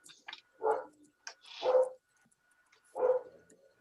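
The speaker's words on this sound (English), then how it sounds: "And Mary Lynn, we're hearing a lot of dog barking in the background" A dog barks in the background during an online airport community roundtable meeting: three distinct barks with softer yips between them, heard fairly clearly in an otherwise quiet room.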